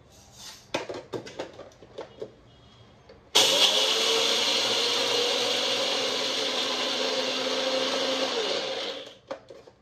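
A mixer grinder runs on ingredients for a paneer dish, grinding them finely. It starts with a sudden loud whir after a few brief clicks and knocks, holds a steady, strong motor roar for about six seconds, then winds down.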